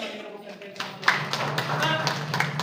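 Scattered clapping builds into a steady round of applause from an audience at a Kannada literary society program ahead of a short play, mixed with a talking voice and some pitched background sound throughout.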